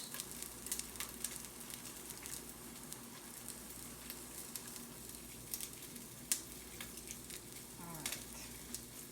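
Crab cake patties sizzling as they fry in a pan, a steady, moderately quiet crackle with small spattering pops and no talking.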